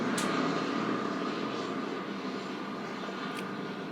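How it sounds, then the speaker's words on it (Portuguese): A helicopter passes overhead outdoors, a steady broadband engine-and-rotor roar that stays loud throughout, slowly easing slightly as it moves on, with no talk over it. "Tem um helicóptero passando aqui agora"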